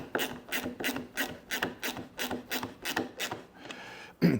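A flex head ratcheting wrench is run down into wood, giving a close series of about ten evenly spaced ratchet clicks and rasps, then a pause and one final sharp click.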